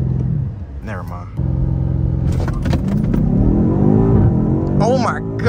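A BMW M8 Competition launches and accelerates hard, its engine note climbing steadily in pitch up close, with people talking over the roar.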